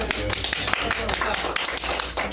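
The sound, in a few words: audience applauding after gallery talk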